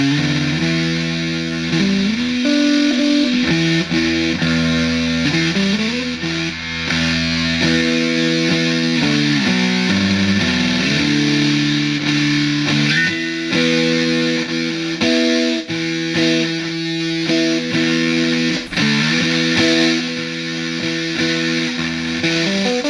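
An Electro-Harmonix Bitcrusher pedal with its bit depth turned up gives a played instrument a harsh, buzzy distorted tone. A melodic line and chords carry on steadily and loudly, with no voice over them.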